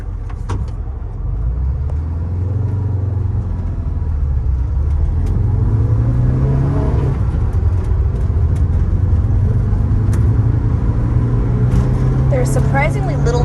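A 1973 VW Westfalia camper van's engine drones steadily with low rumbling road noise, the pitch rising slowly as it drives along.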